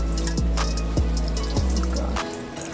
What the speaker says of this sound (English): Pour the gasoline into the tank.